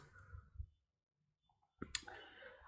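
A computer mouse gives a single sharp click, close and fairly quiet, after a near-silent pause. Faint room noise and soft rustling sit around it.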